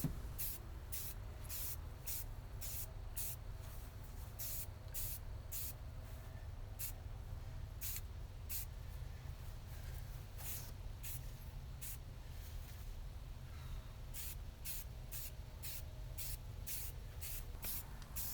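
Motorcycle fork parts being spray painted with etching primer from a spray can, giving repeated short hissing bursts in a steady rhythm over a low background hum, close but quiet.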